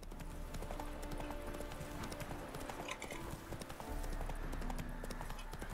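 Roach the horse gallops in a video game, steady rhythmic hoofbeat clip-clops running continuously at close range over a tonal background.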